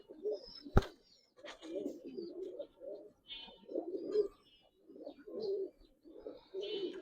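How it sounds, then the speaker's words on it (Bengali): Repeated low, throaty coos of Giribaz pigeons come in short bursts with pauses between, close by, with a sharp knock near the start. "তোর কবুতর অনেক ভালো কবুতর সিনিয়র কবুতর"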